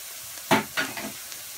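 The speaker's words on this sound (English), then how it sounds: "I'm gonna fry this for 3 minutes until translucent." Tomato puree is added to a frying vegan efo riro base in a pan and stirred, giving a faint sizzle with a few short scraping stirs.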